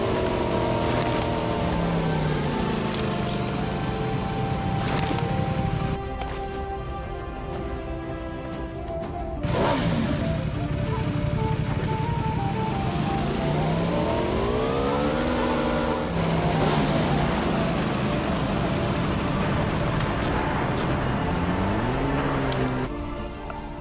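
Motorbike engine in the video game PUBG Mobile, continuous revving that rises and falls in pitch as the bike accelerates and shifts, loud and close for the whole stretch.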